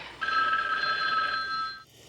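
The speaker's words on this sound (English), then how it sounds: "I got that fateful phone call from my nephew, Grady." An old-fashioned telephone bell rings in a single steady, bright burst lasting about a second and a half in a film scene, then cuts off abruptly.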